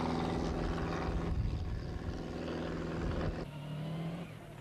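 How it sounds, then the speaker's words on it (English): Renault rally car engine running steadily on the Loch Cutra stage of the 1992 Galway International Rally, a continuous loud drone whose pitch shifts slightly as it moves, with no talk. "At last, John Carson has the Renault on the move again"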